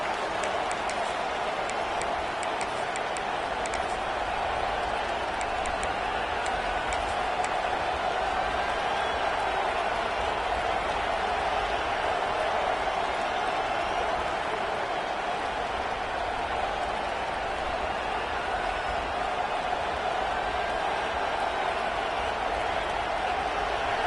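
A stadium crowd in a college football video game keeps up a steady, dense roar that never lets up across the whole stretch, with no distinct individual voices.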